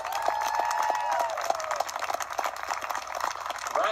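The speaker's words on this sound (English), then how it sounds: "please join me in a round of applause for each of the Newmarket marchers for the VMI class" Crowd applause for the New Market marchers at a VMI ceremony, steady broadband clapping from a large audience filling all four seconds, a few sharper claps standing out near and a faint tonal line early on.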